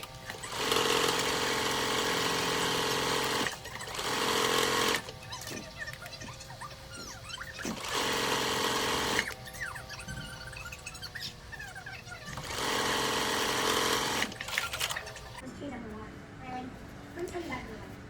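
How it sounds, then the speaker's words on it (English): A sewing machine stitches a strap along a fold line, running in several loud bursts of steady buzzing separated by pauses, with someone talking during the gaps. "you're going to sew along the first fold line that you previously created"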